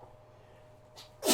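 A single sharp sneeze bursts out near the end, loud and close, after a stretch of quiet room tone during a tabletop Blood Bowl game.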